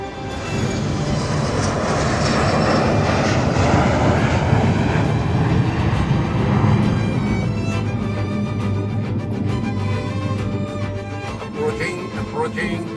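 A Boeing 727 aircraft-engine sound effect plays as a loud, steady jet roar and whine that slowly eases and thins toward the end of the thirteen seconds.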